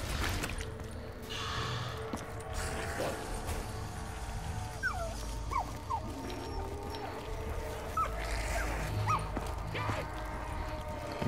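A dog whines and yips in the zombies mode of the video game Call of Duty Black Ops 3, short high cries scattered over a low rumbling background, with faint talk at times.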